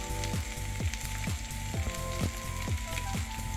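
Garlic and turmeric sizzle in a hot pan of oil for a chilli dish, a steady close crackle broken by a regular rhythm of stirring scrapes, no talking.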